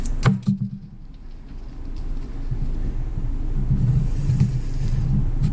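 A restored 1986 homemade disc sander's motor starts with a couple of clicks and then spins up to a steady low hum and rumble that holds close by in a workshop.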